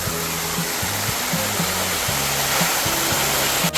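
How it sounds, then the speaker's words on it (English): An indoor waterfall pours out of caves and massive stones in the middle of an airport terminal, a loud, steady broadband rush with low tonal hums from the hall beneath it. "the waterfalls is actually coming out of these caves, all these massive stones"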